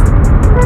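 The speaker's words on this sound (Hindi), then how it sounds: "ट्रैफिक किस तरह से जाम हो गया है" Traffic jammed on a city road at night after rain, heard from a KTM Duke 250 motorcycle, a loud, close, continuous engine and traffic rumble with bright repeated chirps above it.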